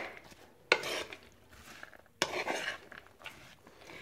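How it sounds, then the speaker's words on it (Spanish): Utensils mixing a quinoa salad in a bowl, with soft scraping and clinking strokes and a couple of sharper knocks against the bowl, faint and close, without talk. "Lo voy a mezclar muy bien."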